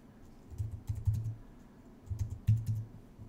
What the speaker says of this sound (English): and I type the code, and then click sync